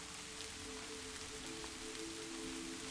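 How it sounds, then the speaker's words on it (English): Steady rain falling on a cabin roof, a constant soft hiss of drops with no breaks, faint and even throughout. "the rain grows just a little clearer, softly falling upon the roof above"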